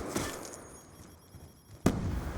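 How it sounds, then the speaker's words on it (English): A Semtex sticky grenade goes off in a Call of Duty match, a single sharp, loud burst near the end of the clip that follows quieter game noise. "That was a Semtex. That's a sticky, by the way. That's a sticky nade."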